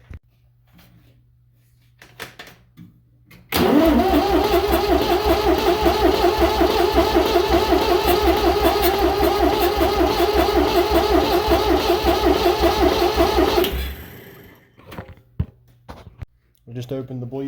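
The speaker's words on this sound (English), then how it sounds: "I'm going to bleed the fuel system here and see if she'll fire up tonight." A David Brown 780 tractor diesel engine is cranked after its fuel system is bled: after a quiet spell, a loud, close, rumbling, churning roar runs for about ten seconds and then cuts off, with speech around it.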